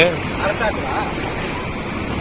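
Heavy river water rushes past the Muddenahalli bridge at high level, a dense, constant roar with no breaks.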